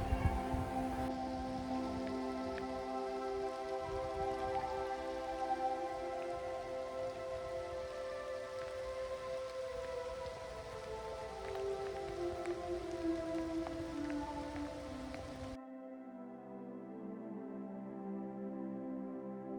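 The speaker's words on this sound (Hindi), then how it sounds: "चलो बारिश के रुकने का वेट करते हैं यार।" Steady rain drumming on a tin shed roof, a dense continuous patter that holds evenly throughout, with a sustained tonal hum layered underneath.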